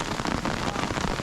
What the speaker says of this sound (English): And then the thunderstorm rolled in.